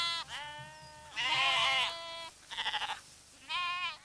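Ewes bleat repeatedly in a loud, close, wavering chorus, with several long quavering calls and one sharply pulsed bleat in the middle. No one speaks.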